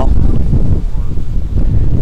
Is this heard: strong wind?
yes